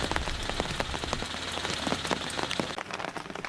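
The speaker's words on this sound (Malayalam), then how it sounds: "കാരണം തോരാതെ പെയ്യുന്ന അതിശക്തമായ മഴയാണ്" Heavy, unceasing rain in Ranthambore forest, a dense close patter of drops striking surfaces that stays loud and constant throughout.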